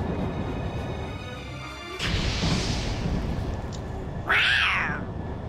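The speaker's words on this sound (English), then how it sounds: "Cat." Cat meowing in the video game Tales of Xillia 2, a drawn-out cry rising and falling over a busy, noisy game backdrop, with a sharper, louder yowl near the end.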